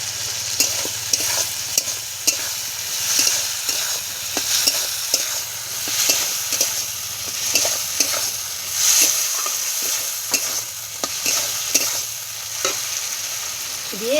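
Poppy seed paste and moong dal being stirred in a hot pan, with a continuous close sizzle broken by steady rhythmic scraping and clicking strokes of the spatula, and no voices.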